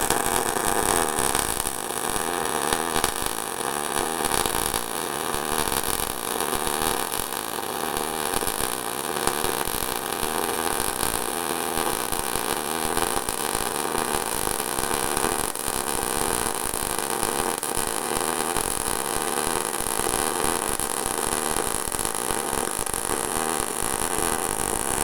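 A MIG welder on 220-volt power lays a bead along a 1/4 inch steel open corner joint in the flat position, producing a steady, loud, continuous crackling hiss that runs unbroken throughout.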